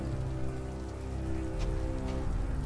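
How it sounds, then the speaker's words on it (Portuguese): Steady rain falling in Star Wars Jedi: Fallen Order on Xbox Series S, an even wash of raindrops over a low musical drone, with faint brief splashes, no talking. "Viu a chuva escorrendo nele"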